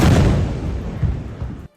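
A drone packed with explosives detonates in Kharkiv, a loud, rumbling blast that fills the short stretch with dense low boom and debris roar before cutting off abruptly; no voices.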